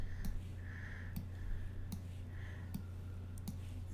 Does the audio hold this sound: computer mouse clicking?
yes